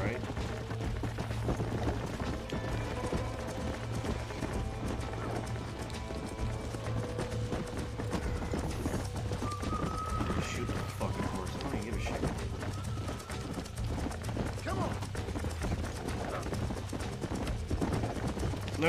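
Horse hooves gallop at a steady, continuous clip in Red Dead Redemption, a busy game scene that also carries a low engine-like drone and scattered effects, all at an even, moderate level with talk around it.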